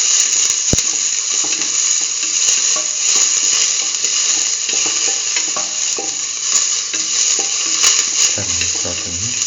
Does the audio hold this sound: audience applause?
no